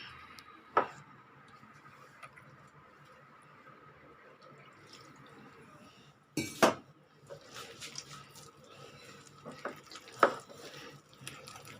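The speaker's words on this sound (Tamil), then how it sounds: "இப்போ தண்ணி விட்டுக்கலாம் கொஞ்சம்" Water being poured into a semolina and maida flour dough and mixed by hand in a bowl, with quiet clinks and a few sharp knocks of dishes and utensils over a hushed kitchen background.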